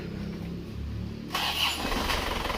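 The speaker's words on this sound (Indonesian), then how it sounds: "Oke, kita starter lagi setelah dimundurkan sedikit." An Isuzu Panther Euro 2 diesel engine starts: a short whirring crank, then a sudden louder catch as it fires and settles into a close, rough running rumble, with no talk.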